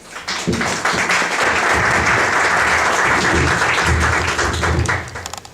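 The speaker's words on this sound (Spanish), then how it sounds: "Un aplauso entonces para esta primera mesa." Conference audience applauding a panel at a 2014 academic session on body and psychosomatic illness, close, full clapping that swells quickly and holds steady before tapering off.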